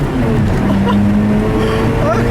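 Engine of a 2004 Mazda RX-8 rotary sports car pulling hard up to high RPM on a back road, a loud, steady rising drone heard from inside the cabin.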